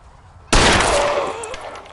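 A single sudden gunshot blast in L.A. Noire erupts after a brief quiet stretch, then rings out and decays with a lingering whine. The shot is close and loud.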